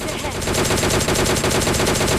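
Rapid automatic gunfire in the mobile shooter PUBG Mobile Lite, a dense unbroken burst of loud shots lasting about two seconds, with no talk over it.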